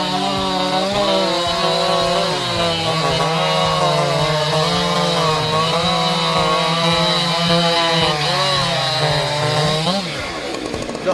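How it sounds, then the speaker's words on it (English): A Husqvarna 590 chainsaw runs close and loud at high revs, its engine note wavering steadily up and down throughout before dropping off near the end. "The Husqvarna 590 is designed for those who demand high performance and durability"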